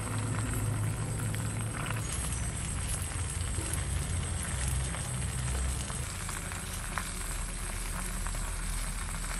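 Oil sizzles steadily in a pan while red field crab cooks with young garden greens, a loud, even, close frying hiss that runs unbroken with no talk.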